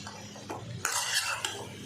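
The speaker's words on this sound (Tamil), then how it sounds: "மசாலா பொடிகளை நல்லா சிக்கனோடு சேர்கிற மாதிரி நல்லா மிக்ஸ் பண்ணி விட்டுருங்க." Chicken pieces being stirred with roasted masala powder in a pan over low flame, a close scrape and clink of a spoon against metal with a soft sizzle underneath, a few short strokes.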